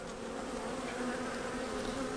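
Honeybees drone in an open hive during an inspection of the brood box frames, a dense, steady buzzing close by with no talk.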